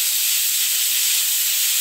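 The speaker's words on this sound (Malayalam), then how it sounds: "1 whistle വരുന്നത് വരെ വേവിച്ചെടുത്താൽ മതി." A pressure cooker cooking chicken mandi releases steam as a steady, loud, unbroken hiss from start to finish, with no voices.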